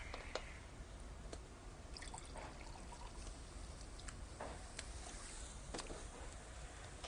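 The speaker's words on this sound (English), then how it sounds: "Just pour myself another drink" A drink being poured, a faint steady trickle of liquid with a few soft drips, quiet and continuous under a low background hiss.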